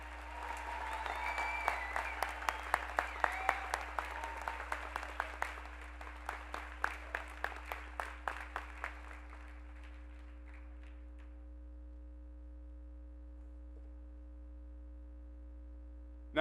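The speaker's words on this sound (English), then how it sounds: "Another round of applause for our summa cum laude." Graduation audience at the Shawnee Mission West ceremony applauding a summa cum laude graduate, dense sustained clapping that thins into scattered individual claps and fades out by about ten seconds, leaving a steady low hum.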